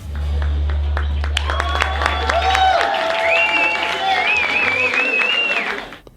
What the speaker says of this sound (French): on voit que le public nous acclame